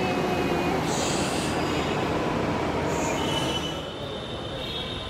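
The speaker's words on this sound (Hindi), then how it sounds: "ये सामने हमारी मेट्रो आ चुकी है" A metro train rolls in with a loud steady rumble, its wheels letting out high squeals that come and go.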